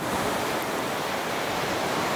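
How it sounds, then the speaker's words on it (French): Ocean waves breaking on a shore, a dense continuous wash of surf filling the short stretch at steady loudness, with no voices. "Le soleil est parfait, la lumière sur les vagues."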